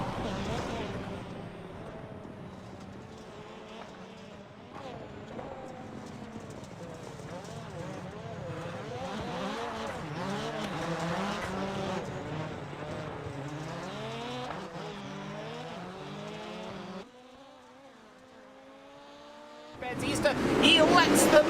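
Race car engines in the iRacing sim scream as the field drags to the start-finish line for a 30-lap USA race, several engines rising and falling in pitch under steady running commentary, dropping away briefly before a loud roar returns.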